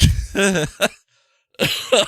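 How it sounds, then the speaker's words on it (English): A man clears his throat and gives a rough cough near the microphone in two short bursts, separated by a moment of silence. "I told you about this cough"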